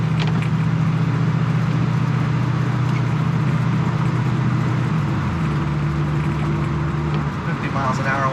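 A 1935 Chevrolet Master drives along with the windows up and the air conditioning running, its engine giving a steady, close, low drone with a slight shift in pitch midway.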